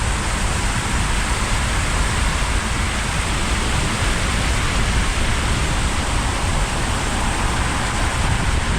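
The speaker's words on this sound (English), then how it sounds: "Well, we're getting a bit of water on the road now." Rain water on the road while driving, a dense, steady hiss of tyre spray and road noise that holds without a break throughout.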